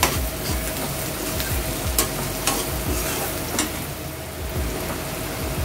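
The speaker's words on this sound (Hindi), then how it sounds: "तो अब हम इसमें ये शिमला मिर्ची डालेंगे, इसे भी अच्छे से फ्राई करेंगे।" Capsicum and onion fry in a hot pan as a constant close sizzle, with a few spatula scrapes and taps against the pan and no talk.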